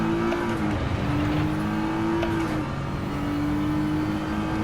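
Nissan GT-R R35 engine in Gran Turismo 7 accelerating out of a corner on a sim wheel setup, a steady loud drone whose pitch climbs, dips at a shift and climbs again, with no talking.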